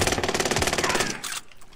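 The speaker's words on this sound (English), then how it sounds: "We got fucking shots being fired in here." Rapid automatic gunfire rattles loud and close in a video game firefight, a fast even burst of shots that stops abruptly before one last shot at the end.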